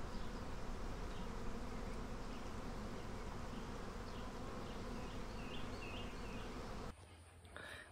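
A dense swarm of honeybees drones loudly and steadily close around a beekeeper wearing a mesh face veil, with the buzzing dropping off abruptly near the end.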